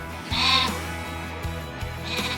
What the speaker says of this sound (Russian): В хозяйстве этой семьи несколько сотен баранов.